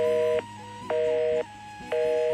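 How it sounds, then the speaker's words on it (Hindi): A telephone number being dialed: three steady dual-tone keypad beeps, each about half a second long, in an even rhythm with brief gaps between them. No voices are heard. "देव भाई को फ़ोन करता हूँ"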